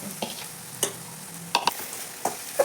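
Karchikai palya frying in a pan over a gas flame, a soft steady sizzle broken by a few sharp clinks and scrapes of a spatula stirring against the metal, close and fairly quiet, no voices.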